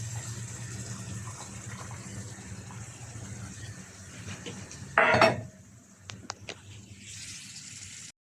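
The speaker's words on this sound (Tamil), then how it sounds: "புளியை ஊற்றியாச்சு." A quiet kitchen murmur, then a short splashing pour of tamarind water into a pot of bitter gourd curry, followed by a few light clinks of utensils.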